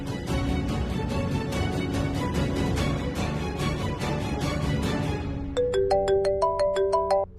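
A phone ringtone plays as a call goes through, a melodic electronic tone that comes in toward the end after a stretch of dramatic background music from a Hindi TV serial.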